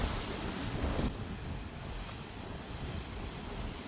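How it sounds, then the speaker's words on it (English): Small waterfall in the Peak District, a steady broadband rush of falling water, continuous and fairly close, with a slightly louder swell in the first second. "it's got a beautiful little waterfall"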